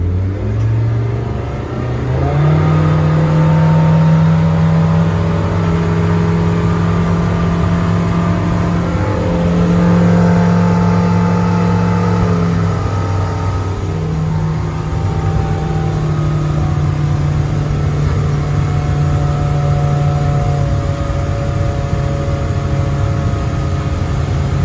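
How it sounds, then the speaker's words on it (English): A Suzuki 150HP outboard on a 2021 Beneteau Antares 7 throttles up hard, its loud steady drone climbing in pitch as the boat gets on plane, then holding a sustained high run close by. "We'll give the boat a handful of throttle now"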